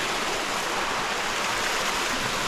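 A Southern California hiking-trail waterfall pours in a constant, dense rush of falling water that fills the whole span at a steady, fairly loud level, with no voices over it.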